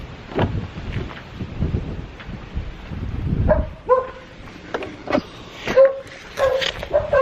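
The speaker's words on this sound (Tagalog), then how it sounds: "Yung mga alaga ko tumatahol kasi it's their dinner time." Several dogs bark in short, scattered bursts at a moderate distance, over gusty wind buffeting the microphone.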